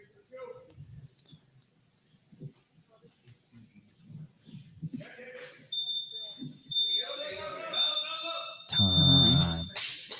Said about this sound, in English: Why is that beeping at 15?